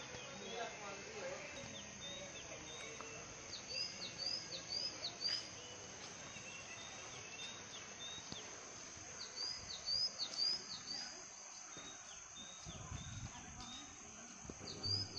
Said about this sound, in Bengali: পাখির আওয়াজ